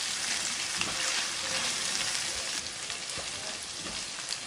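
Vegetables and scrambled egg with added seasoning stir-fry in a hot pan, giving a loud continuous sizzle with occasional scraping clicks from stirring, close and uninterrupted, with no voices over it.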